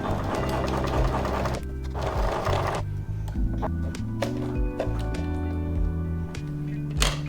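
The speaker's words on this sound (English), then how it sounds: "now I'm just going to sew to enclose the raw edge that we have cut over there." Sewing machine stitching a seam on pyjama shorts to enclose a raw fabric edge, a steady rapid mechanical chatter that pauses briefly and restarts, close and alone.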